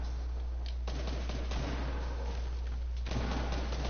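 Video game gunfire in a chaotic shooter match, several muffled bursts and shots repeating over a few seconds through a thin, band-limited capture with a constant low hum and no talking.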